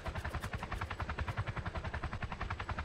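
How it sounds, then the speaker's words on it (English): A helicopter armed with a .50 cal gun in the Roblox battle game Polybattle thrums with fast, even rotor pulses, loud and close, a steady rhythmic chop throughout with no talk over it. "There's a 50 cal chopper on me."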